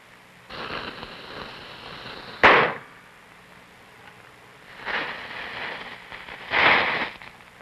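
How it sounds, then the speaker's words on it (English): Confined and unconfined firecrackers going off. There are two sharp, loud bangs a few seconds apart, each trailing into hissing, crackling bursts, with softer sizzling stretches before and between them. "Confined and unconfined firecrackers."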